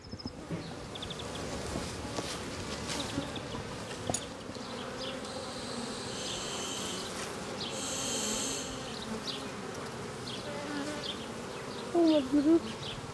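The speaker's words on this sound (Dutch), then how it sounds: "Want de mensen vinden de bijen eng omdat ze kunnen steken" Honeybees buzz at a beehive in a dense, continuous drone close by, with a few louder passes of individual bees, and no talk is heard.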